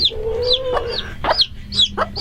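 Chicks and chickens on a small farm clucking and peeping in a near, steady run of short calls that overlap one another, with a few higher chirps and no talking.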